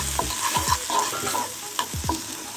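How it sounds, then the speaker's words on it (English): A spoon stirs and scrapes food sizzling in a pan after salt, sugar and cinnamon have gone in, giving several sharp scraping knocks over a steady close frying hiss. "Give this a stir."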